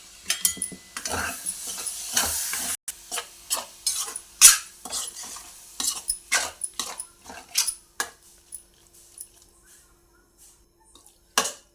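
Tomato puree goes into a pan of cooking milikar curry and is stirred, giving a run of close, separate scraping and clattering strokes with brief sizzle bursts that thin out toward the end.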